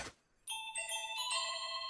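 A bright cartoon bell effect from Mickey Mouse Clubhouse rings out after a short quiet gap, with several clear chiming strikes layered into a sustained, shimmering tone that holds loud to the end.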